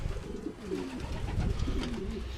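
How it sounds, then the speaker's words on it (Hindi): Sick pigeons recovering on a rooftop coo softly in low, rounded repeated calls against a background hum, several overlapping over a couple of seconds. "जो मेरे बीमार कबूतर थे उनका आज हम हाल देखते हैं"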